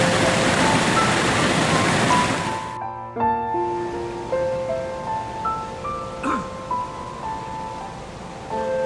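Water surges through an opened paddle on a canal lock on the Peak Forest Canal's Marple flight. A loud, steady roar lasts about three seconds, then stops abruptly, leaving a tinkling melodic tune.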